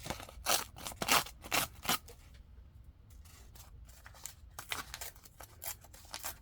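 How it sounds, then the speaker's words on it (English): A paper page being slowly ripped out of a journal: several crisp tearing bursts in a row, a short pause, then more tearing and rustling, close and fairly quiet. "So I'm going to rip this one out carefully."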